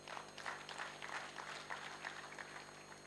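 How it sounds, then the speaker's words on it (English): Steady applause from a crowd, many hands clapping together in a continuous wash of sound for the whole stretch. "So we need a big hand clap"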